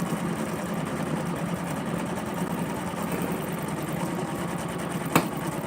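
An embroidery machine stitches the bottom of a basket with a steady, dense mechanical hum and rapid needle chatter, close and continuous, with a single sharp click near the end.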